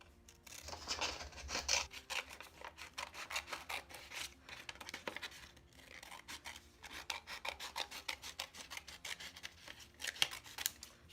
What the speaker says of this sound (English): Make sure you're cutting as straight as possible.